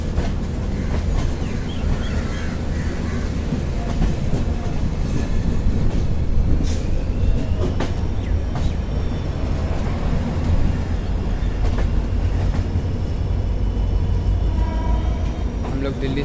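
A WDP 4B diesel locomotive from Tughlakabad hauls the Delhi Sarai Rohilla–Bikaner Express past Delhi Sarai Rohilla, a loud continuous rumble with wheel clatter and occasional faint squeals, heard from close by with voices mixed in.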